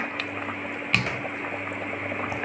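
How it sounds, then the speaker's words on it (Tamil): Sweet corn mint rice bubbling in a pot as it comes to a steady boil, a soft continuous simmer with one sharper pop, heard alone at moderate level. "நம்ம வந்து இப்போ நல்லா கொதிச்சிட்ருக்கு"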